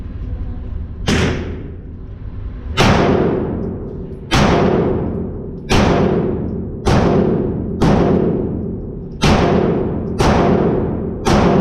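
A Glock 19 Gen 4 fitted in a CAA Micro Conversion Kit fires about eight loud, sharp shots at a steady, unhurried pace, each crack followed by a long echoing decay outdoors.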